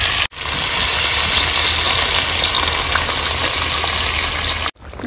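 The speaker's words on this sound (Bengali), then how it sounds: "এবার দিয়ে দেবো জল।" Water poured into a hot pan of spiced jackfruit masala hisses and bubbles in a loud, steady wash of sizzling steam, starting and stopping abruptly.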